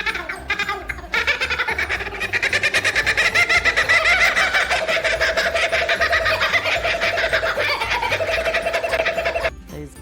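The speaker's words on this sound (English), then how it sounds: "The Kookaburra is one of Australia's most recognisable birds, known for its loud call that sounds just like laughter." A kookaburra gives its loud laughing call, a rapid run of cackling, hooting notes that rises into a sustained rolling chorus for several seconds, close and clear before breaking off abruptly.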